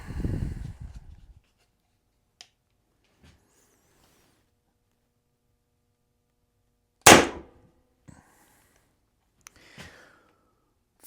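A single air rifle fired through a Pistelle x68 barrel and suppressor kit gives one sharp, brief crack near the middle, preceded by a short breathy noise and followed by faint clicks and handling sounds in a quiet setting.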